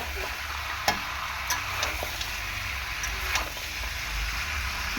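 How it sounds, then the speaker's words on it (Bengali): Mutton sautéing in a pan gives a continuous close sizzle and hiss, with occasional sharp clicks of a spoon being stirred through the meat; steady and fairly loud with no talking. "ভালো করে এরকমভাবে কষিয়ে নেব ভালো করে কষিয়ে নিতে হবে মাংসটা"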